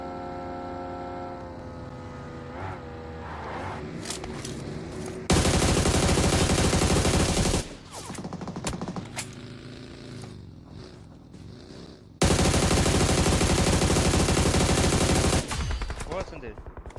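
Gunfire in a PUBG Mobile Ultimate Royale match: two long, loud bursts of sustained automatic fire, with scattered quieter shots and other game sounds between them.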